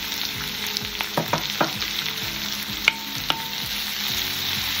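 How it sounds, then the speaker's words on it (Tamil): Chopped garlic sautés in a hot pan, frying with a loud, steady sizzle under scattered scraping and stirring knocks from a utensil, close by and with no one speaking. "இரண்டையும் சேர்த்து நன்றாக வதக்க வேண்டும்."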